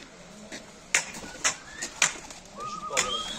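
Pigeons flown by their keeper make a series of flapping wing claps and whistling flutter against an open-air hush, with a few soft bird calls and a faint voice in the background.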